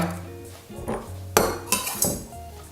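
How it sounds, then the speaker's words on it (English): Chopped pesto ingredients scraped into a pestle and mortar, a few sharp clinks and knocks of a knife or spoon against the bowl, close and clear with quiet kitchen hum between them. "We're going to add that to the pestle and mortar, like so."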